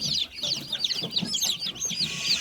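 Newly hatched chicks from an incubator hatch peeping in a busy, overlapping chorus of high chirps, close by and continuous, with soft clucking underneath.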